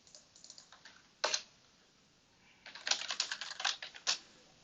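Typing on a computer keyboard, heard close and fairly quiet: a few scattered keystrokes, a firmer tap, then a quick run of clattering key presses ending in one last tap.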